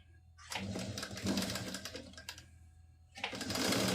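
Sewing machine stitching a cross piece onto a pleated nighty, two bursts of rapid, rattling stitching separated by a short pause, close and fairly loud.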